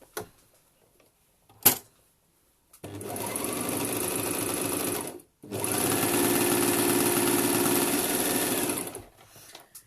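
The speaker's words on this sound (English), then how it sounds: "I'm going to take my waistband piece, right sides together, and I'm just going to sew down this end." A sewing machine stitches a bralette waistband piece with its right sides together in two steady bursts, the second longer, preceded by a short click; close and clear with no talk.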